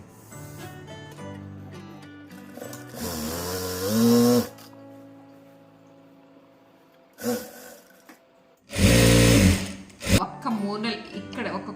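A sewing machine stitches around the edge of a cut top in short bursts of whirring motor hum. Someone talks between and over the stitching runs.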